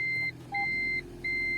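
A car's parking sensor beeping while reversing, clear electronic tones in a regular on-off rhythm, close and fairly loud, with no talking.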